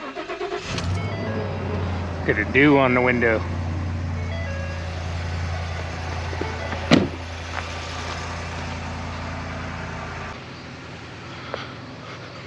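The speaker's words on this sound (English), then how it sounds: "Get the truck warming up." A truck engine cranks and catches, then settles into a steady low idle for several seconds, with a brief beeping chirp early on and a short spoken line over the engine.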